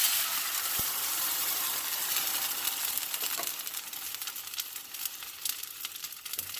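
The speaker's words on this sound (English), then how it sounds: "I'm going to refry my beans. I have this preheated with about 2 tablespoons of cooking oil." Beans refrying in about two tablespoons of preheated cooking oil give a steady, bright sizzle throughout, with an occasional soft clink and stirring noises, close and unbroken.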